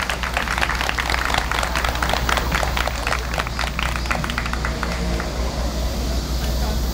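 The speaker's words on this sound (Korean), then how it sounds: "이건주 회장님께 다시 한번 박수 부탁드리겠습니다" Applause from a large crowd at a nationwide doctors' strike rally in Korea, a steady dense wash of clapping that holds at an even level for several seconds with a constant low rumble beneath it.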